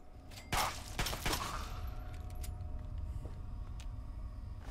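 Gunfire in Fallout 3, heard as a quick burst of several sharp shots early on, then fading to a low rumbling ambience with a faint steady tone and occasional distant pops; fairly quiet overall.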